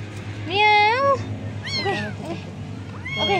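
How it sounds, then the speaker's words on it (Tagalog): A cat meows loudly and close three times in a row, the first call long and wavering and the later ones shorter, over a low background hum. "Meow. Meow. Meow."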